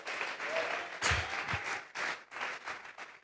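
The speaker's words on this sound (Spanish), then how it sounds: "Vamos a regalarle ofrenda de palmas al Dios de la gloria" Congregation at a church service clapping together as an offering of applause, a fairly steady wash of many hands with a few louder bursts, a voice rising briefly amid it.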